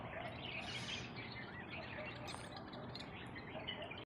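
Birds chirp and twitter busily at a Hindu temple as they are fed grain, a dense, steady outdoor chorus under background noise.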